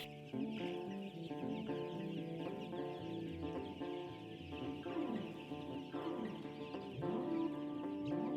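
Chickens clucking on an organic free-range poultry run set among trees, with steady overlapping clucks and calls from several birds close by.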